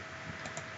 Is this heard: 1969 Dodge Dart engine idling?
no